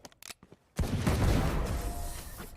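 Gunfire from a Valorant match during a professional VCT Pacific esports broadcast: a few quiet sharp clicks, then a sudden loud burst of shots and impact that sustains and slowly fades.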